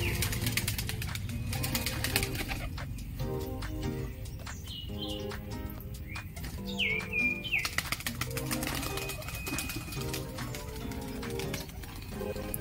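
Released fancy pigeons flap their wings in short bursts close by, alongside chirps and coos over a busy background.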